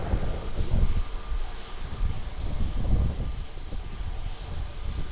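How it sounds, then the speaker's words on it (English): A SriLankan Airlines airliner lands at Melbourne Tullamarine Airport, giving a sustained, loud jet engine roar with rumbling low end and wind buffeting. It sounds steady throughout, with no voices. "Always lovely to see SriLankan Airlines landing in here"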